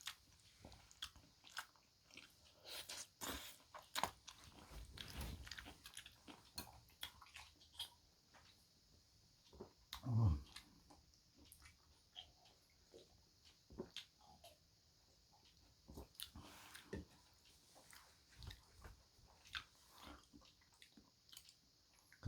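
Food being eaten close up, with repeated crunchy bites and wet chewing in an irregular rhythm, quiet between bites and with no speech.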